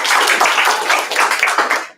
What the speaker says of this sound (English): can we give all of our speakers a big round of applause?